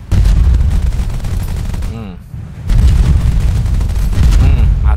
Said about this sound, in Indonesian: Mainnya tembakan roket terus